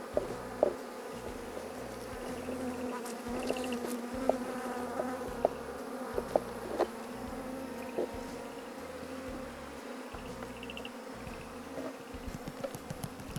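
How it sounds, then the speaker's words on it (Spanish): A dense swarm of wild bees buzzes continuously up close at night, a steady droning hum with occasional louder passes near the listener. "acá ya nos cogió la noche, entonces ya acá pues tenemos una gran parte de abejas en este lugar"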